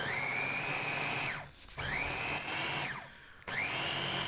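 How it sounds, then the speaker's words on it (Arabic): An electric blender or food processor mincing peppers with three spoons of salt for a quick pickle, running loud with a steady whirring drone that dips and restarts twice, with no talking. "هتحطيه في الخلاط او في الكبه عندك"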